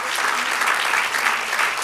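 Church congregation applauding steadily, a dense even wash of clapping filling the sanctuary from start to finish.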